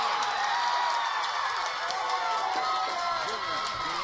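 A softball crowd and team dugout erupt in loud, sustained cheering and screaming at a Junior League Softball World Series game, a dense roar with whoops and clapping filling the whole stretch.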